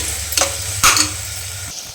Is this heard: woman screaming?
no